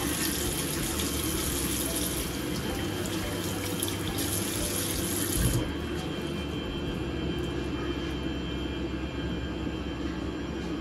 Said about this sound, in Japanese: 拭いたら洗面台の中も拭くっていうか洗う感じですね